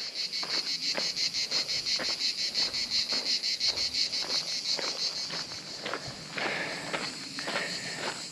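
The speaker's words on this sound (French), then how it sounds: "Les cigales." Cicadas buzz in a loud, pulsing chorus, their rapid rhythmic drone filling the air, with occasional crunchy footsteps underneath.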